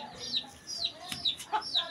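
An Aseel rooster clucks repeatedly nearby, a string of short, rising calls spaced evenly with faint background noise.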